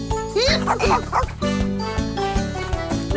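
A cartoon dog yips and barks in short excited bursts over light bouncy music in a French-dubbed Noddy (Oui Oui) cartoon.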